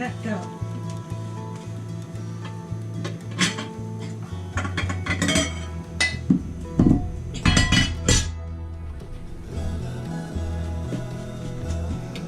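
Dishes clink and clatter up close while someone fetches a deeper bowl in a home kitchen while making apple cobbler. Bright ceramic knocks and glassy chimes land in short clusters over a low, steady tonal background.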